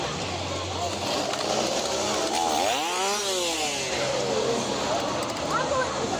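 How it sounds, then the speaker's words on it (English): Chainsaw revving in a Halloween Horror Nights scare zone, a steady loud buzzing engine with a rising and falling pitch sweep in the middle, mixed with crowd noise and talking. "There's gonna be chainsaws."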